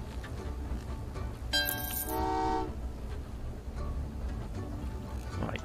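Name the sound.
uranium train running in Train Valley 2 video game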